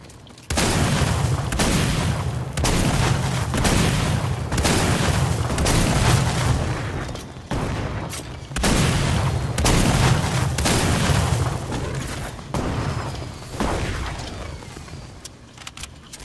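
Loud booming grenade launcher explosions go off in Fortnite Battle Royale, several heavy blasts a few seconds apart, each rolling into a long rumbling tail before fading near the end.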